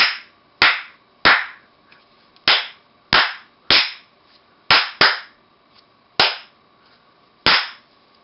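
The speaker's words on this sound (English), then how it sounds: "It's counting my claps." Sharp hand claps counted by an audio circuit on a 7-segment display ring out about ten times, fairly loud and close, with irregular gaps between single and paired claps over quiet background hum.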